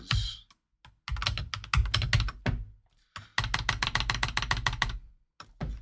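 Quick bursts of typing on a computer keyboard for Excel shortcuts: close, crisp key clicks in rapid runs broken by short pauses.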